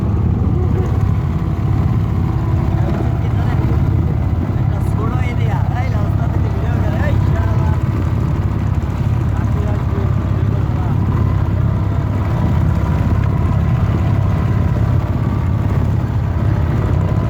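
A trawler boat engine drones steadily and loudly at close range, a continuous low rumble under people talking throughout.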